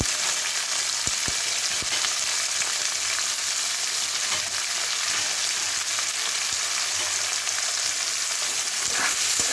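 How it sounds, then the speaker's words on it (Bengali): Chopped onions fry in tempered oil in a pan that already holds lightly fried potatoes. They give a continuous, even, close-up sizzle with occasional soft stirring taps, and no one speaks. "এখন আমি কেটে রাখা পেঁয়াজগুলো ফোড়নে দিয়ে দিচ্ছি"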